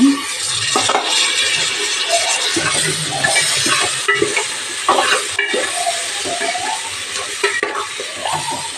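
Potatoes go into a hot frying pan for soya biryani, giving a loud, steady sizzle with repeated scraping stir strokes and occasional utensil knocks against the pan throughout.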